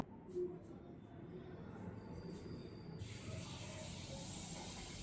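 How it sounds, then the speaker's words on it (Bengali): Rice being washed in water at home, a soft trickle at first, then from midway a steady hissing rush of running or pouring water that continues to the end, fairly quiet and close. "চালটা ধুয়ে নিচ্ছি"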